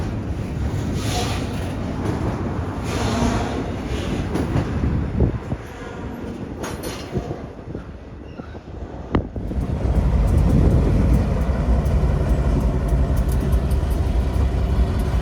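A CSX yard job works at Howell Yard, building trains: a continuous rumble of rolling railcars with squeals and clanks, heavy wind buffeting on the microphone, growing louder and denser in the second half.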